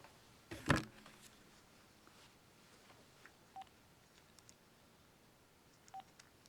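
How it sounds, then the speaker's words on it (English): On a live talk-show broadcast, an incoming phone call registers as a sharp electronic tone burst early on, followed by faint, quiet beeps spaced a few seconds apart against a low background. "Oh, we got a phone call."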